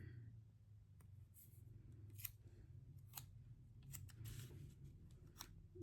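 Sticky scissors snip repeatedly in quiet, sharp cuts, about a dozen irregular clips close to the listener over a low steady hum.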